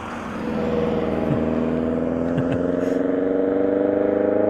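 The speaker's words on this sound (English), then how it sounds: "Have a listen to this Ignis now." A Suzuki Ignis car with its factory exhaust idling and revving up, a steady burbling engine drone that rises in level and holds, close by.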